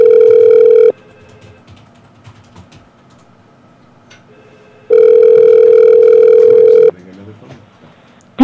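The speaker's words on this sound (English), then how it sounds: "We wanted to make sure to give you a call" A telephone ringback tone on a call sounds loudly twice in long steady bursts with a quiet gap between. Faint clicking follows, with no speech.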